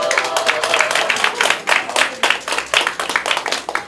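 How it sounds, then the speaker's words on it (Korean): Loud, close applause from a packed crowd at a Progressive Party candidate's campaign office opening for a Jungnang-gu by-election, with many hands clapping in a dense, lively rhythm that surges and ebbs over several seconds. "다시 한번 큰 박수 부탁드립니다"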